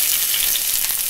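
Chopped onions hit a hot pan and sizzle loudly, a dense, close hiss of frying that holds steady for a brief moment.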